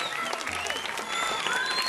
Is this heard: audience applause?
yes